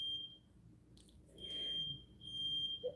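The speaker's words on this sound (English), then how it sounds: "That's the fire alarm." A high-pitched smoke or fire alarm sounds in a home while someone cooks, holding steady continuous tones with a brief break, moderately loud and clear over quiet room noise.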